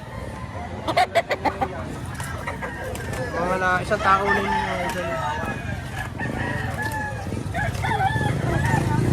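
A rooster crows loudly nearby with intermittent clucking from chickens at a market in Lipa, Batangas, while people talk in the background throughout.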